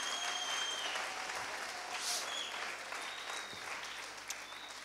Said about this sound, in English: Clap your hands to Jesus and thank him.